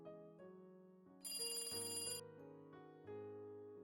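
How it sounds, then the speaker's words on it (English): A desk telephone rings in a quiet room, its bright electronic trill bursting in briefly over a soft musical backdrop. "The phone on the desk rang."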